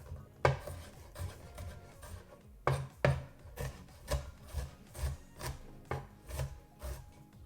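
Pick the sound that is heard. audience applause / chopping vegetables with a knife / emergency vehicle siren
chopping vegetables with a knife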